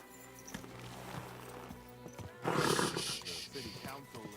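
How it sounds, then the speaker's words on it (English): A horse neighs and snorts in the game Kingdom Come: Deliverance 2, a loud whinny in the second half over a bed of ambient music and background chatter. "Easy, good horse."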